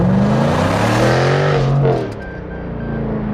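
A Jaguar F-Type R with 575 horsepower and all-wheel drive, in dynamic mode with exhaust valves open, accelerates hard: a loud, rising engine roar climbs in pitch for about two seconds, then drops back to a steadier, quieter drone.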